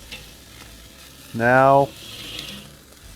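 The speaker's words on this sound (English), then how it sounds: "Let's let that sear a little bit like that." Iberico secreto pork sears on a grill prone to flare-ups, giving a sudden loud, half-second burst of sizzling with a tonal squeal, then dropping back to a quiet steady hiss.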